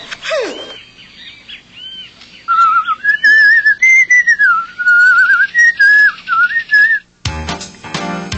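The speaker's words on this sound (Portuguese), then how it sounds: "Não quero ouvir você assobiar de novo." A person whistles close by and loudly, first in short chirpy notes and then in a long wavering melody that rises and falls before ending, followed by a brief rough burst of noise.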